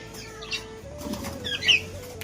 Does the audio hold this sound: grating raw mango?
no